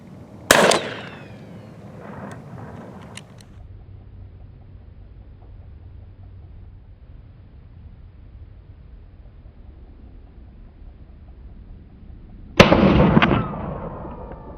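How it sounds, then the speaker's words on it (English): Two loud, sharp 12 gauge shotgun blasts with 4-buck and a modified choke, fired outdoors at a target about 40 yards away, about twelve seconds apart, each followed by a short decaying echo over quiet background. "We'll be shooting 12 gauge shotgun, 4-buck, modified choke at a target that's about 40 yards away."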